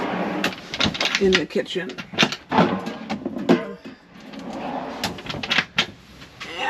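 Large storage drawers slide open and shut in the kitchen of a Fiat Ducato camper van, giving several brief thumps and rattles while a person talks over them.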